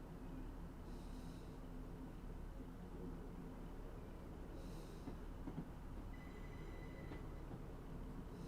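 A Class 150 diesel multiple unit runs in Train Simulator on the Great Yarmouth to Norwich via Acle route. Its steady rolling rumble carries through with two brief airy hisses and a thin high tone near the end.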